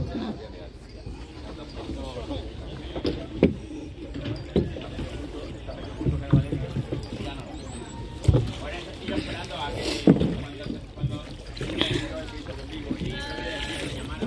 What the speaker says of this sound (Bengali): এই দেখুন নৌকা বাইরাম